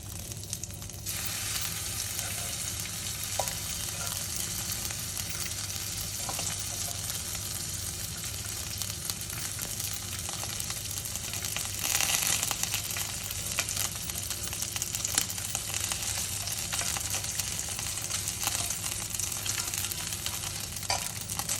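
Steady, continuous sizzling of hot fat in a stainless steel nonstick frying pan, close and fairly loud, with faint crackles and a brief swell partway through.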